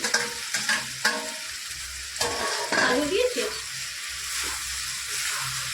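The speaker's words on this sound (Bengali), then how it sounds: "কাঁঠালগুলো রেখেছি না ভেজে সেটা দিয়ে দিচ্ছি মশলার মধ্যে" Raw jackfruit pieces tossed into a frying Bengali spice mixture for a kalia, a continuous hissing sizzle broken by several sharp spoon clatters and scraping strokes in the pan, close and fairly loud.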